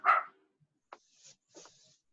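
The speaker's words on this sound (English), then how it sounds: "Now it's my dog barking." A household dog barks in a few short separate woofs, the first loud and close, followed by softer yips and whimpers, with quiet pauses between them.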